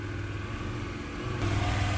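A Mercedes camper's engine labouring uphill, a steady loud drone that shifts to a deeper, heavier note partway through as it downshifts.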